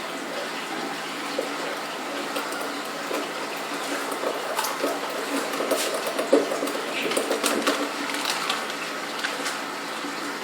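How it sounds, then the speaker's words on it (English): RO water trickles and splashes as it is worked into FijiCrete to a putty consistency, a steady close wet swishing with small irregular stirring bursts and no talk. "add a little bit of RO water in here and just mix it to the consistency of putty"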